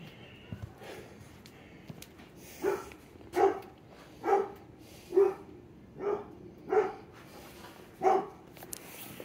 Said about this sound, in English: Three dogs today barking